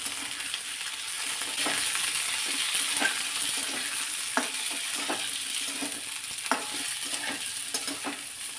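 Chopped drumsticks frying in hot oil with garlic browned to a reddish tinge, a steady close sizzle broken by sharp scraping stir strokes every second or so, no voices.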